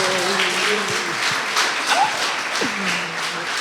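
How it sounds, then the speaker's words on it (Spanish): Church congregation applause, a steady moderate clapping wash throughout with faint voices and sounds mixed underneath. "Le damos un aplauso."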